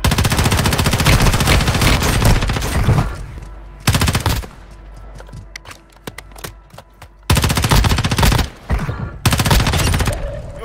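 A player's gun fires in Warzone Mobile: loud bursts of rapid automatic gunfire, with pauses and scattered single shots between volleys.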